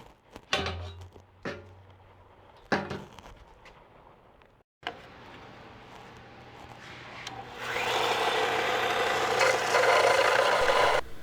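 A saw fitted with a brand-new blade cuts an aluminum fuel pump bracket for a Celica GT-S: a few sharp, separate scraping strokes open, then a steady, harsh rasp of cutting builds louder at close range.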